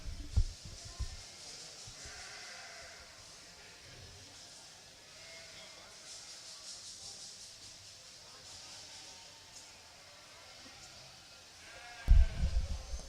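Bleating from sheep in a livestock show pavilion, faint and intermittent behind an announcer's voice and room hiss.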